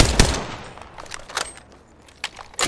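Bursts of gunfire in Apex Legends combat: a sharp loud shot near the start, then scattered fainter shots and impacts trailing off, with a few crisp cracks near the end, no talking.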